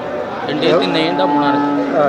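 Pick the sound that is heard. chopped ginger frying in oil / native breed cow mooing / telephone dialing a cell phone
native breed cow mooing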